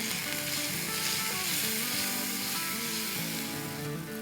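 Turmeric and cumin sizzle steadily in hot oil for an okra and potato dish, a constant close frying hiss with faint scraping as the spices are stirred, no voices.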